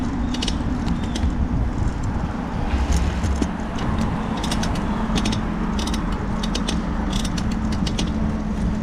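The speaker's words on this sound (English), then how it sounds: "you probably hear the noise from my bike" Bicycle riding noise picked up by a GoPro wireless mic with a wind muff, a continuous close mechanical clatter and ticking of chain and gears over a steady rumble, with no talk.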